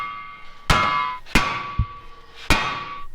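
Hammer blows tapping a bracket back into place on a Ford Bronco II; three sharp metallic strikes ring out, with a lighter knock between two of them, close and loud in a garage.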